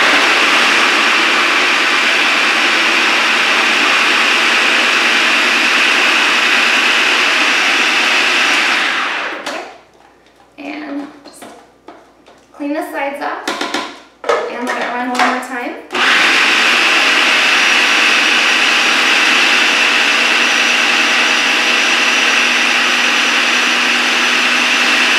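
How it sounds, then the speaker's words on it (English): Countertop blender running loud and steady, blending a raspberry cashew cream filling for stuffed French toast, with a brief pause of several seconds midway where quiet talk is heard before the motor roars back. "you're going to go ahead and blend everything together"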